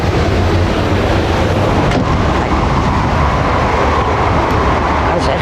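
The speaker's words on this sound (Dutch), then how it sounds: "want ik hoor ook een trein" A train rumbles past nearby, a continuous heavy rolling roar with occasional metallic clanks, loud throughout.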